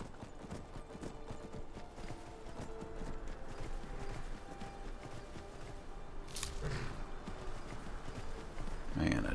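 A horse's hooves clip-clop at a walking pace in the video game Skyrim, a steady rhythmic patter close by, with a brief louder rustle and thump near the end.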